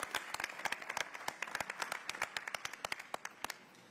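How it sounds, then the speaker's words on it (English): Quiet, crisp applause from delegates at a United Nations Habitat Assembly session, with many distinct individual claps in a fairly sparse, steady patter. "Another round of applause, please, as they leave for the panel presentation"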